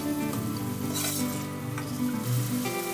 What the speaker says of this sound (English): saute till it becomes golden brown in color. It gets caramelized.